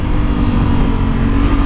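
Honda Africa Twin 1100 Adventure Sports 2020 motorcycle downshifting with throttle blips, a loud, close, steady engine roar with no talk.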